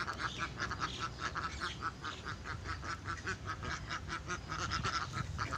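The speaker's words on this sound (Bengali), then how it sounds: "হাঁসের খামার আমরা দেখতে পাচ্ছি।" Domestic ducks on a rural duck farm in Patiya, Chattogram, Bangladesh, quack in a steady, busy chorus, many birds calling in overlapping bursts throughout.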